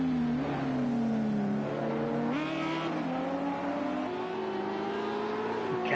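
BMW M6 race car engine in Project CARS 2 at Spa-Francorchamps, a steady loud howl with rising and shifting pitch as it accelerates through gears, continuous throughout with no talk over it.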